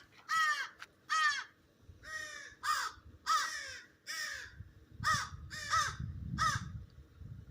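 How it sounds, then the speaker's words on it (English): Crows caw harshly and repeatedly in quick, agitated bursts, close by in the Florida Everglades, about a dozen calls over several seconds with a low rumble beneath. "the birds are freaking out"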